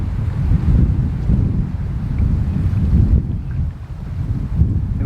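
Wind gusts steadily across a Scottish loch during a canoe trip in the Trossachs, a loud continuous low roar buffeting the microphone for the whole stretch.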